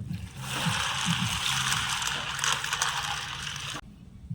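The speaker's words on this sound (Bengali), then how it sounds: "এবার আমি দিয়ে দেব জল" Water pours into a bowl holding about 500 grams of dried peas in a continuous, close splashing rush that cuts off abruptly near the end.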